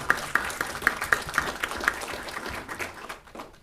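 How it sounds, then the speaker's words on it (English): Scattered applause at a California Energy Commission business meeting, a handful of people clapping in a room, sharp irregular claps fading out over a few seconds. "Your work does deserve a round of applause."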